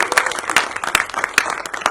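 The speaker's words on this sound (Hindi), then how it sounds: "तालियां भी उनकी जोर से होनी चाहिए।" An audience at a Hindi film trailer launch event applauds loudly, a close burst of many hands clapping in quick irregular smacks for about two seconds.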